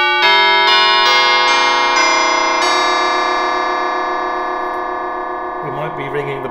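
Metallic, warbling tones from a 1950 Deagan Canto Chimes electric bell carillon played through an Electro-Harmonix ring modulator strike several times in a row, layered and slowly decaying with a harsh shimmer, ending in a brief burst of distorted noise.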